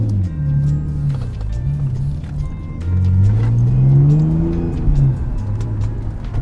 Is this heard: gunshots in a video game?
no